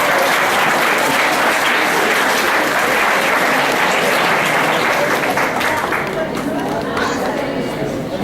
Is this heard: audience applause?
yes